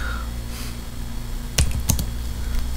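A handful of quick keystrokes on a computer keyboard typing a short command, two small bursts of clicks up close over a steady low hum, with no talk.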